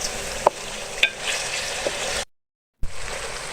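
Chicken with chickpeas fries in a pan as a steady close sizzle with a few sharp spoon clinks and scrapes, cut by a brief moment of silence before the hiss resumes.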